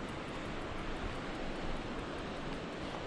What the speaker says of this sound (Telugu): మళ్ళీ ఇటు చూడండి మంచిగా వాటర్ ఫ్లోయింగ్ ఉన్నది